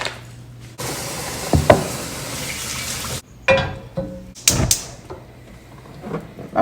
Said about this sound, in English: So now I'm going to rinse my shrimp